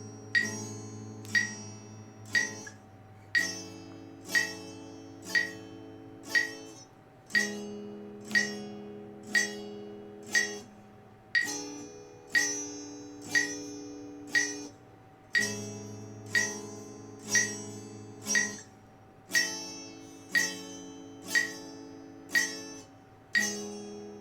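Guitar strummed in bar chords at a slow steady pulse, four even strums per chord before each change, every strum ringing bright and close with no talking over it.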